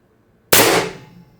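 A single sharp shot from a Pistelle X-68 HPA carbine running at 800 psi with an ADN X18 drum magazine, close and loud, with a short fading tail after the crack.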